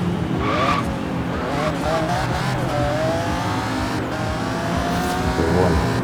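A Ferrari drives in the Forza Horizon 3 racing game, its engine droning continuously with tires squealing and whining gear shifts, loud and steady throughout.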